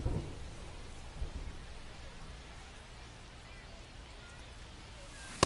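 Steady rain hiss in a baseball video game, a continuous soft wash of noise with a faint rumble beneath and a couple of brief thumps, no voices.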